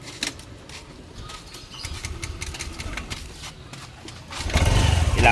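A Yamaha NMAX V2 scooter engine runs after an ECU repair, a steady low idle that swells louder near the end as the throttle is opened.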